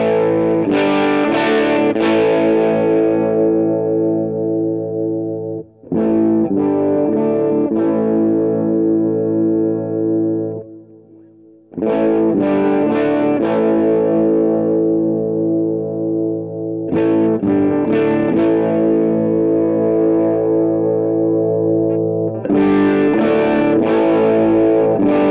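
Electric guitar through a Tech 21 SansAmp Character Plus Mop Top Liverpool pedal with the high EQ boosted, giving a bright, driven tone; several sustained strummed chords ring out with short gaps between them, loud and alone.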